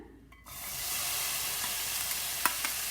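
Half-sliced capsicum sautéing alone in a pan for a stuffed zucchini filling: a steady, close sizzle that rises after a short quiet start, with a couple of light stirring clicks near the end and no talk.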